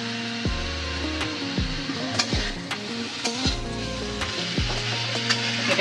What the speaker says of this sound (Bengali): এটাকে ভালোভাবে সুন্দর করে ভাজা ভাজা করে নিই।